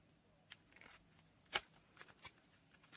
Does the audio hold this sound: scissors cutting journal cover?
yes